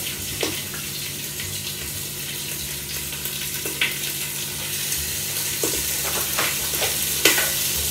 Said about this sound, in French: on va mettre le foie, et puis ça se cuit très très vite.